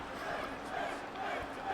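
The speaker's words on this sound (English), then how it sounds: "Crowd going nuts for Finn Balor right now" A wrestling arena crowd in the WWE 2K19 video game roars steadily during a Finn Balor versus Dolph Ziggler match, a continuous dense wash of cheering with no breaks.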